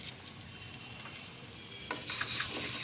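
Chicken fry with coriander powder and chicken masala is stirred in a pan, a soft continuous sizzle with quiet scraping that swells louder near the end, close but faint overall, no voices.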